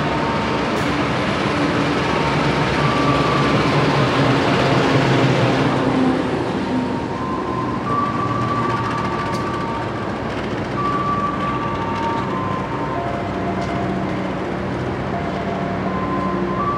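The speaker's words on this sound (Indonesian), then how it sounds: "Perjalanan saya naik kereta api Ciremai saat ini sudah tiba di stasiun Cikampek" Ciremai passenger train standing at Cikampek station in Indonesia: a steady, loud wash of rumbling train and platform noise with a low mechanical hum and faint tonal whines throughout.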